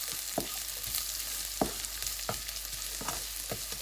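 Wild vegetables with chili and garlic are stir-fried in a hot pan, giving a steady, close sizzle broken by regular scraping knocks of the spatula roughly every half second, with no talking.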